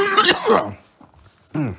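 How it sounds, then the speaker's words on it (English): A single loud, close cough, followed after a brief pause by a short throat sound. "I'm coughing."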